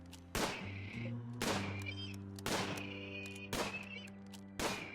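Repeated gunshots from the Rimworld Alpha 17 video game: five sharp cracks spaced about a second apart, each trailing a brief ringing tail, over a low droning game hum.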